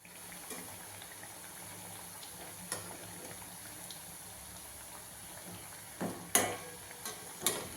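Black gram pepper vada frying in hot oil, a soft continuous bubbling sizzle with occasional sharper pops and clinks, fairly faint and steady throughout.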